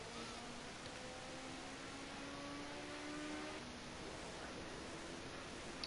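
Race cars lapping the Donington Park National circuit, a steady engine drone at a distance with faint rising tones as a car passes through the corners, no voices.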